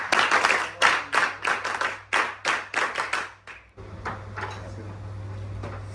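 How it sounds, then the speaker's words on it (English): NCC cadets clap in a sharp, rhythmic group pattern at a felicitation ceremony, about a dozen crisp unison claps in a row, then the rhythm stops and a looser spatter of claps continues over room hum. "NCC clap शुरू कर"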